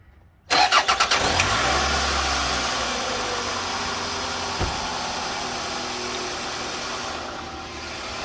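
A Toyota Tarago (Estima/Previa) engine cranks with a few quick turns on a newly replaced starter motor, catches, and settles into a steady, smooth idle that runs on close by.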